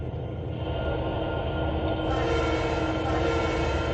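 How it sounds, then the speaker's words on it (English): An SD80MAC locomotive horn in the Trainz 2022 video game sounds steadily under a constant rumbling train drone, its tone shifting partway through, moderately loud with no speech. "That was the SD80 Mac horn."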